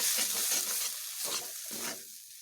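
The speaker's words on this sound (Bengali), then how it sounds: "কচুর শাকগুলো আমার ভাজা প্রায় হয়ে এসেছে" Taro (arum) leaves frying in a pan give a soft, steady sizzle with gentle stirring scrapes that fade in and out at low volume, with no talking.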